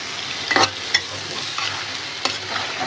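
Fish being sautéed and stirred in a pan while lentils cook nearby, with soft frying sizzle under a few sharp scraping stir strokes, close and moderate in level.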